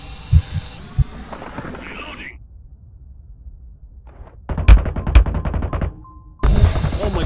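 Gunshots in Boundary, a zero-gravity tactical shooter, sounding as a few sharp isolated cracks amid ambient hum and muffled game sounds, with short silent gaps between.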